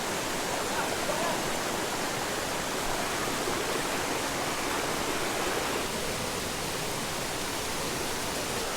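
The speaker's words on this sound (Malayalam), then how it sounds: "രണ്ട് കൂറ്റൻ കല്ലുകൾക്കിടയിലൂടെ ഇടുങ്ങി ഒഴുകി വരുന്ന ഒരു വെള്ളച്ചാട്ടമാണ്" Steady, full-bodied roar of the Kadavupuzha waterfall rushing through a narrow gap between two huge boulders, loud and continuous with no pauses or voices.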